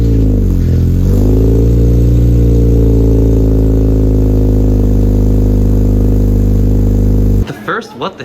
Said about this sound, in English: let me get you a cold start up